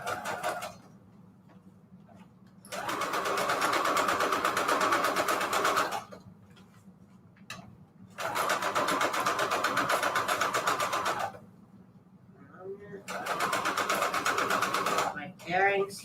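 A sewing machine running a 3.5-length straight stitch on lace, three sustained loud whirring bursts separated by quiet pauses with faint handling, voice talk between them.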